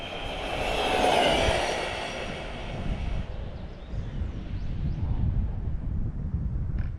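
Redcat Kaiju EXT RC car running at full throttle: a high-pitched whine that is loudest early on, then fades as the car speeds away, leaving a rumbling, wind-buffeted background.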